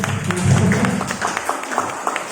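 Audience applause at a government employee (PPPK) orientation seminar in 2023: a sustained patter of many hands clapping indoors, strongest early and then thinning slightly, with a faint voice now and then.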